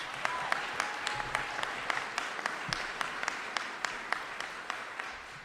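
Audience applauding for Transportation Secretary Buttigieg at a Buffalo event on the Kensington Expressway project, a steady sustained clapping with sharp individual claps standing out, moderately distant and even throughout.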